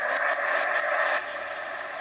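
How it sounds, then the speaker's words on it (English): A heat gun blows over masking tape for a craft project, a steady close whooshing hiss of air that drops to a softer, continuous blowing after about a second. "So let's hit that with this heat gun."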